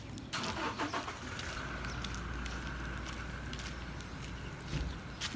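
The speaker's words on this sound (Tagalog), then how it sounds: "Tapos dami din sasakyan." Cars pass along a residential street lined with large houses in the morning, a continuous low traffic rumble with steady road noise throughout and no voices.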